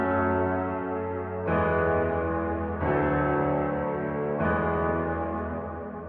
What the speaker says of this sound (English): the way I started this track off originally was with this piano